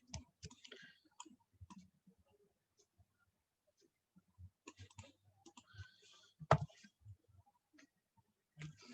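Soft, scattered clicks of a computer mouse at a desk during a design tutorial, irregular and close, with someone talking quietly in between.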